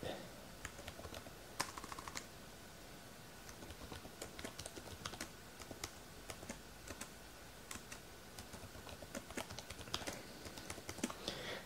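Rapid, light clicking of keys on a computer keyboard, quiet and continuous for over ten seconds, while a password is entered during TrueNAS SCALE WebDAV setup.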